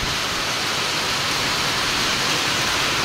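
Heavy rain pours down in a dense, unbroken hiss, loud and close, with no voices or pauses.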